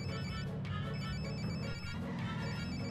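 An in-game telephone rings over busy game music and effects, its repeating tone heard steadily through the whole stretch without a break.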